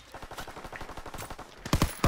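Rapid machine-gun fire in Call of Duty: WWII on London Docks, a fast, evenly spaced string of sharp shots followed by a few louder, closer blasts at the end.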